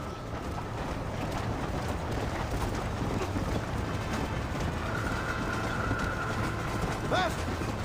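Steady, dense rumble of a moving train in the Red Dead Redemption game, a continuous loud rolling roar with a faint whistle-like tone near the end and no clear talk.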